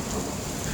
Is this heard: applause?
no